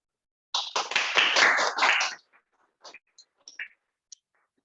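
A group of meeting attendees bursts into brisk clapping as a demonstration. It lasts under two seconds and is followed by a few scattered, fading claps.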